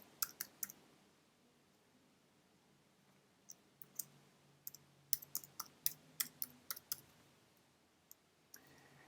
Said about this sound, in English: I'm going to type in my demo email address